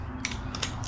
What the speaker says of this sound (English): pulling out the spark plugs, 5/8 inch spark plug adapter